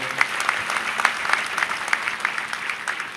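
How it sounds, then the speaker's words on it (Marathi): An audience at a Mahanubhav religious gathering claps in a loose, moderate round of applause, a scattered patter of many hands heard from close by. "टाळ्या वाजवा हो।"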